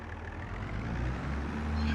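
A tractor engine in Farming Simulator 22 cranks and fires, building into a loud, steady low rumble that swells slightly toward the end, close and with no voices.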